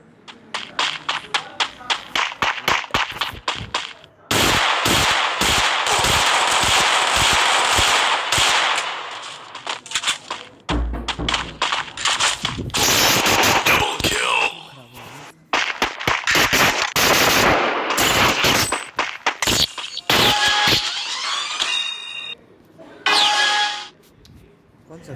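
Rapid bursts of video game machine gun fire, loud and close, cracking in dense rattling volleys with brief gaps between them, joined by other game effects.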